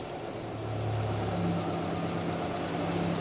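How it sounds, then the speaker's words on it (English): A 1976 Volga GAZ M24 taxi engine idles steadily with a little choke, a low, even rumble holding at constant moderate loudness with no voices. "this is now idles with a little bit of choke"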